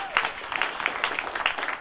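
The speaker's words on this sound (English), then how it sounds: "Let's give the Lord a clap offering" A church congregation claps during a Christmas Eve service, with a brief burst of scattered, uneven hand claps from many people, fairly close, and a voice faintly present underneath.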